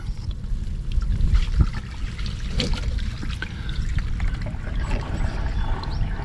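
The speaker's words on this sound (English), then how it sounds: "I'm going to switch this thing over to drain, and it's just going to start draining" A portable washing machine in an RV draining into a bucket, with a steady rushing, splashing stream of water that runs continuously at close range.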